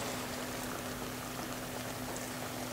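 Liquid from cooking pork is poured through a strainer into a small pot, producing a steady, even bubbling splash with a faint hum underneath, continuous and moderately quiet.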